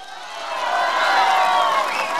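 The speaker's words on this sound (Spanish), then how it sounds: "Pero no me aplaudan" A crowd at a public event about drinking water and sewer system works applauds and cheers a speaker, a sustained, fairly loud roar that swells in the middle.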